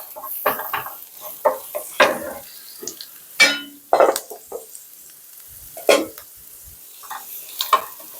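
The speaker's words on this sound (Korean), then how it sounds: "채소 당근, 피망 넣어가 볶습니다." Carrot and bell pepper stir-fried in scallion oil in a wok for shrimp fried rice, with a low steady sizzle under repeated scraping and clacking strokes of a spatula against the pan, close and fairly quiet.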